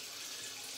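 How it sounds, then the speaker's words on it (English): A kitchen tap runs steadily for a cold-water rinse, giving a continuous, close hiss of pouring water with no talk over it. "cold water rinse"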